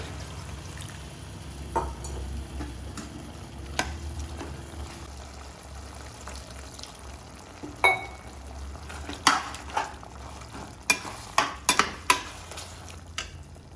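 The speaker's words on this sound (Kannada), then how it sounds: "ಹಾಗಲಕಾಯಿ ಬೇಯಷ್ಟು ನೀರು ಹಾಕ್ತಾ ಇದ್ದೀನಿ" Water is poured into a pan of cooking bitter gourd for gojju, a soft liquid pour and simmer under several sharp clinks of a utensil against the pot, close and fairly quiet.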